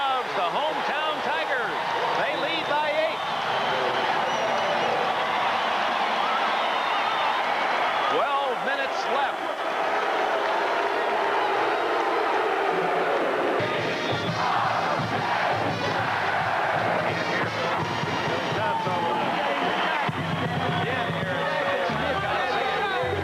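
Roaring home crowd in a 1984 college basketball arena during a timeout, a dense continuous din of cheering and shouting that fills the whole stretch, with a play-by-play voice talking over it at times.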